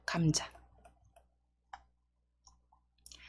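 A mouse clicks on a search result: a handful of soft, separate clicks after a brief burst of speech at the start, otherwise quiet.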